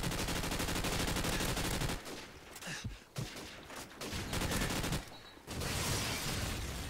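Rapid submachine gun fire in Call of Duty 4 on the Nuketown map, dense sustained bursts broken by a couple of short pauses, loud and close with no talking.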